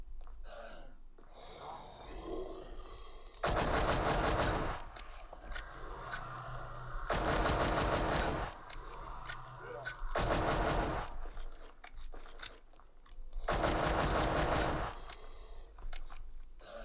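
Loud bursts of Deagle pistol gunfire in a Roblox game, coming in separate heavy clusters about every three to four seconds, with quieter game noise between them.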